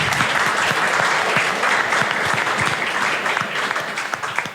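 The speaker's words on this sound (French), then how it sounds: "Veuillez applaudir, s'il vous plaît, Nyain." Audience applause at a French-language debate event welcoming a panelist, steady dense clapping from a crowd that holds throughout and tapers slightly at the end.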